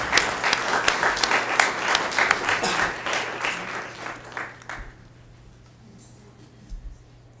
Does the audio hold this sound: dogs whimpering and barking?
no